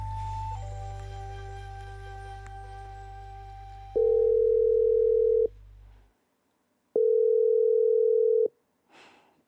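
An unanswered outgoing phone call: after an opening dial tone, two long, loud ringback tones sound about a second and a half apart, each steady and separated by silence, with no pickup.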